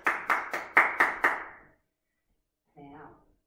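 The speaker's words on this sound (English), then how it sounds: "Give yourselves a clap." Children give a quick round of about six sharp, evenly spaced claps close by, then stop, followed by a short spoken voice.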